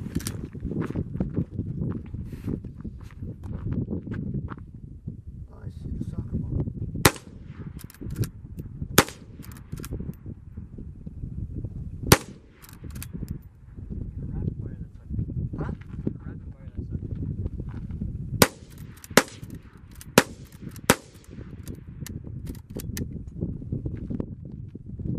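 A gun firing many rounds, a string of sharp, loud cracks scattered irregularly over a steady background rumble, with people talking throughout.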